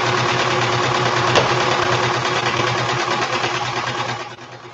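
A sewing machine winds a bobbin with a steady, loud, continuous motor whir, holding level for about four seconds before easing down at the end.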